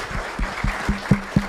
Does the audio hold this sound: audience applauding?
yes